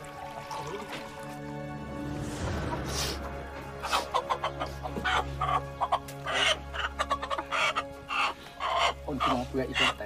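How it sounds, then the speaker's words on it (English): A chicken clucks during a sacred rice ceremony in the Philippines, just before it is sacrificed to the rice god, with several clear clucks near by over steady low background noise and faint voices. "As he sacrifices a chicken to the rice god Buru, Buokan prays for guidance."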